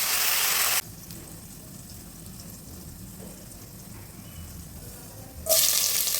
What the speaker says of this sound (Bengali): এখন একটু সামান্য ভেজে নেব।